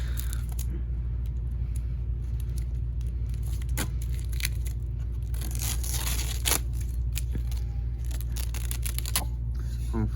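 Adhesive tape pieces are torn off an old car bumper mesh in short ripping bursts, scattered crackles and peels over a steady low rumble, close to the mic with no talking.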